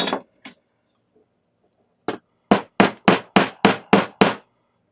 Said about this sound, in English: we'll be able to start putting this shape in and flattening this back out using the horn of our anvil.